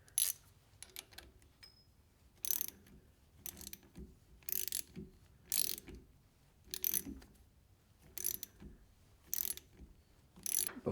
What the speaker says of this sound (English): Let's put the screw in.